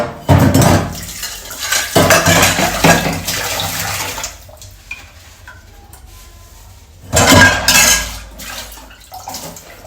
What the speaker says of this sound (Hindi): थोड़ा सा बर्तन धो लेते हैं